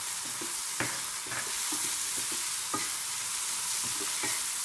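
Spices including red chili powder and garam masala stirred in a hot pan for cauliflower bhurji, a steady broadband sizzle with a few sharp scraping strokes of the spoon against the pan, close and continuous, no voices.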